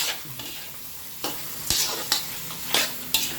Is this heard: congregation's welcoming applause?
no